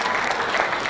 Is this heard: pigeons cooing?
no